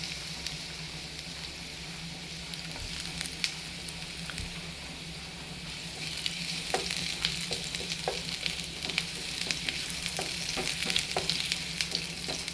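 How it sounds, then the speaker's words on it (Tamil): Ginger frying in hot oil, a steady close sizzle and crackle that thickens partway through, with scattered pops and spits. "எண்ணெய் சூடானே முதல்ல இஞ்சியை போடணும்."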